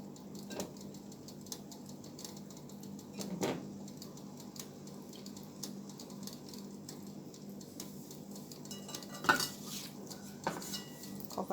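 A lid goes back onto a pot of Jamaican-style chicken and pumpkin soup. A couple of metallic clanks and light taps stand out over a quiet, low kitchen hum, with no talking.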